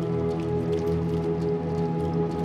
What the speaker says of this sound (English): The rain almost feels comforting.